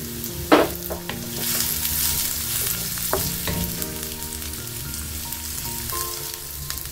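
Cubed onions hit hot oil in a pan for chilli chicken, giving a loud initial sizzle that settles into steady frying crackle with occasional stirring scrapes, no voices.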